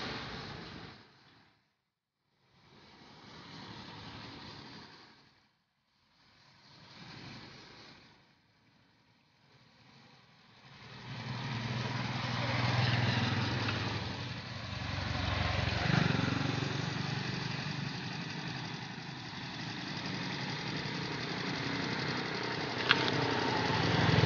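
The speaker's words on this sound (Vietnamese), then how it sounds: "chiếc ghe này nó đi ngang đây nè, chút nữa nó đi ra chỗ này nè." A motorboat engine on a flooded delta canal in An Giang, Vietnam, first puttering in faint bursts, then rising into a steady droning hum as the boat passes close by, with faint voices in the background.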